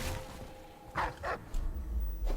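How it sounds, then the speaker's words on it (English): Enemy guard dogs in the stealth game Dishonored bark in a few quick, sharp bursts, moderately close, with faint game ambience between the barks and no talk. "These dogs are probably the most annoying enemy in this challenge"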